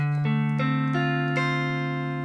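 A guitar minor seventh chord with an added flat seven on the top string, strummed and left ringing, with a few notes picked on top in a slow arpeggio, clear and close.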